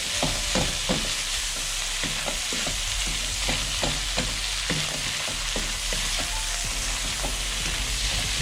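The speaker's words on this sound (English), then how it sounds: "bean sprouts go in, and the chives. Just a quick 30 seconds or so in the pan." Bean sprouts and chives stir-fried in a hot pan for Malaysian char kuay teow: a dense, loud sizzle with rapid repeated scraping and tossing strokes of a utensil against the pan, close up and without speech.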